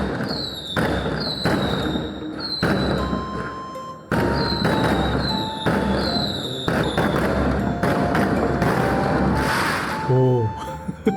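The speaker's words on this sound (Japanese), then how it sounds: "今そこで花火上げてました" Fireworks launched in a nearby parking lot on a rainy night go off in a rapid series of sharp pops and whistles, close and loud, with crackling bursts overlapping and a murmur of voices underneath.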